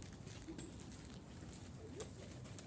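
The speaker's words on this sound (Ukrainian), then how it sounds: "Ще голубанки." Pigeons feeding outdoors give soft, low cooing calls over a steady hiss of background noise, faint and somewhat distant.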